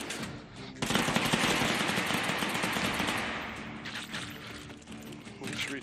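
Akimbo FiveSeven pistols in the H3VR video game firing armor-piercing incendiary rounds, a loud sustained burst of rapid fire lasting several seconds before fading into scattered shots.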